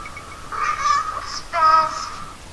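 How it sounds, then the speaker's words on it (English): A cat in the Phantasmagoria video game gives two drawn-out, unhappy meows in quick succession, clear and close against a quiet background. "the cat is rather not happy to see her"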